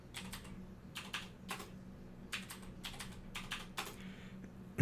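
A password is typed on a computer keyboard in quick bursts of light key clicks, close and quiet, with short pauses between groups of strokes.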